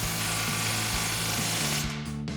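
Impact wrench on a 14 mm socket tightening the flange bolts of an aFe MACH Force-XP 3-inch single exhaust on a Toyota Tundra, giving a loud, steady, close-up mechanical buzz that rattles throughout and cuts out near the end.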